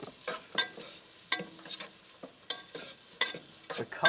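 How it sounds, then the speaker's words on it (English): Chicken for chili being stirred in a pot with a spoon, scraping and clinking in irregular strokes over a light sizzle, close and moderately quiet, with no talking. "You want to give it a stir?"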